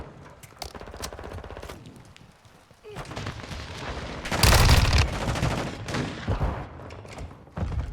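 Rapid gunfire and explosions in a Call of Duty Modern Warfare 2 match: bursts of automatic shots build to a loud, dense blast of fire and booms midway, then continue in heavy volleys, with game voice callouts mixed in.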